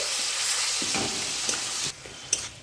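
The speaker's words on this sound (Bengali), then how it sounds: "পেঁয়াজটা একটু ভাজা ভাজা করে নিয়েছি, আরও ভাজতে হবে।" Onion paste fries and sizzles in a pan while a cauliflower and shrimp dish is cooked village style, with stirring scrapes and clatter and a drop in level near the end.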